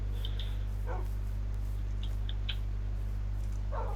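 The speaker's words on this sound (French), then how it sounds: "Mes petits chiens, ils sont trop mignons." Small dogs yipping and barking in a Minecraft survival world, a few short high barks scattered over a steady low droning hum.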